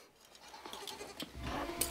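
Cashmere goat bleating during combing of its fleece, short, fairly faint calls near the end over rustling and scratching handling noise.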